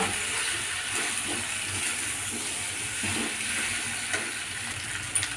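Mixed vegetables being stir-fried in a pan give off a steady, close sizzle and hiss, with soft scraping from stirring now and then and no voices.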